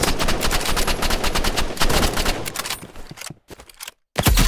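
Rapid gunfire from the Roblox game Rivals crackles loud and close in a dense automatic burst, then breaks into a few scattered shots separated by sudden silent gaps.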